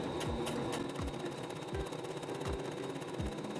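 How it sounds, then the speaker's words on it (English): Secondhand sewing machine bought through an online marketplace, running a chain stitch with a continuous close mechanical hum and regular low thumps about every three-quarters of a second, no voices. "so I did a chain stitch"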